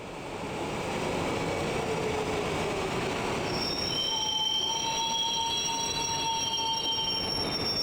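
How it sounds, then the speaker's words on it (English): A train in the video game Trauma Team brakes to a halt, a loud continuous roar with high, sustained wheel squeals rising and layering over it, filling the whole stretch without any voice. "Ominous train stopping sounds."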